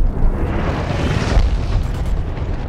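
Airstrike explosions in the game Dirty Bomb roll in as dense, heavy, continuous booming blasts, loud and close, with no talk over them.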